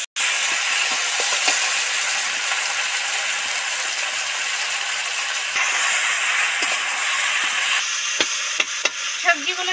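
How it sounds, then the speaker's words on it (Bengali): Vegetables frying in hot oil in a home kitchen while being cooked down for a Bengali fish dish, a steady loud sizzle and hiss running throughout with occasional clicks of stirring near the end. "সবজিগুলোতে একদম ধরে ধরে ভালো করে ভেজে নিলাম, কষে নিলাম।"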